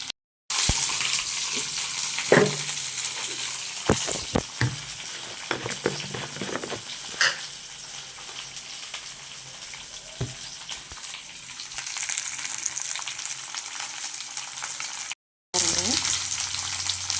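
Okra sautés in a pan for vendakka chutney, a steady close sizzle broken by irregular spatula scrapes and taps against the metal, with one brief silent break near the end.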